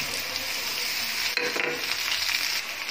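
Garlic paste, onion and ginger sautéing in a pan for a Bengali fish-head murighonto, a continuous dense sizzle with a brief clatter of stirring partway through.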